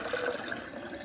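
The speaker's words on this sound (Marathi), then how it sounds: "याच्यामध्ये मी पाणी टाकणार आणि स्लोली टबमध्ये पाणी रिफिल होणार" Water pours steadily into a tub during an aquarium water change, a faint continuous trickle and splash with no talk.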